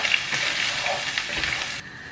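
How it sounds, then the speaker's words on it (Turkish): Washed rice sautéing in sunflower oil in a pot, giving a steady, fairly loud sizzling hiss close by with light crackles throughout and no talking. "pirinci tenceremize ekleyip onu biraz kavuruyoruz."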